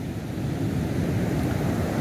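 Sea waves hit the shore at Polem beach in Goa, a continuous dense rumbling wash with some wind noise and no voices.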